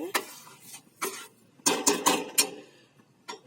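A spoon stirs sugar into date-jaggery rice pudding in a pot, giving a series of clinking, scraping strokes in irregular bursts with quiet gaps between them.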